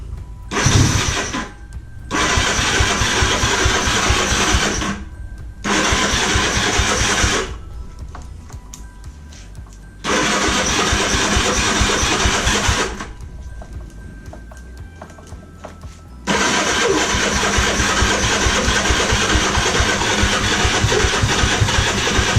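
A Kawasaki KZ400 motorcycle started after sitting two years with starting fluid, loud cranking bursts that catch into rough idling runs, cutting out and restarting several times with brief quiet gaps.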